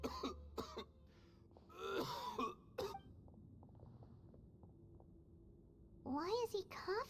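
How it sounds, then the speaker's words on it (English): A man coughs hoarsely in several bursts during a Genshin Impact cutscene, with a voice speaking between the coughs and a quieter stretch in the middle. "Why is he coughing so much?"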